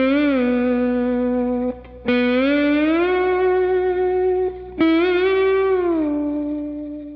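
Slow slide guitar solo in George Harrison's style, played alone with gliding sustained notes, an effects-laden distorted tone and reverb, a few brief breaks between phrases.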